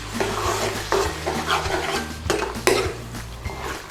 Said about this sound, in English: Stir them all in.